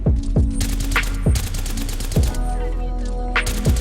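Rapid bursts of video game gunfire in a battle royale match, loud and close, with repeated sharp shots, a few heavier booming reports and a steady electronic hum underneath.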